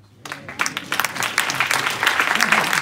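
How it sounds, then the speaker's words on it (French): Audience applauds after a presentation on personalised nutrition, clapping building from silence into a fuller round of many hands, with a voice briefly audible near the end. "Et tout d'abord, peut-être applaudir."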